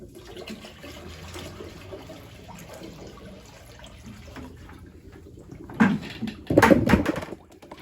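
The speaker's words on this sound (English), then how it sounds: "we're gonna start by filling the top with sanitizer." Sanitizer pours into the top hopper of a Carpigiani 1131 soft serve machine, a low steady trickle that swells into two louder gushing splashes near the end.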